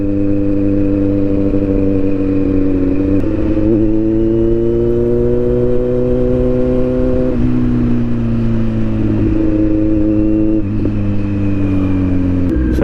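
Motorcycle riding along a road under renovation, its engine droning steadily and loud up close, with gentle shifts in pitch as the rider eases and rolls on the throttle.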